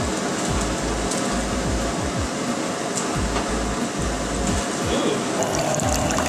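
Wort first runnings trickling and draining from the mash during all-grain brewing of a lemon witbier, a steady close liquid flow with a continuous hiss and rushing beneath, no talking.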